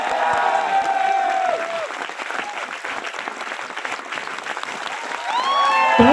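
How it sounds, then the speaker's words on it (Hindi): An audience at a motivational talk breaks into loud, sustained clapping and some cheering, with whistles or shouts rising at the start and again near the end. "ताली तो बजा दो यार।"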